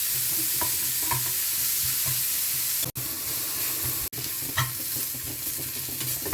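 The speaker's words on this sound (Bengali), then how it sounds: "উচ্ছেগুলো মোটামুটি ভাজা হয়ে গেছে।" Bitter gourd frying in a hot pan, a steady broadband sizzle with soft stirring scrapes, held close and fairly loud, broken by two brief cutouts.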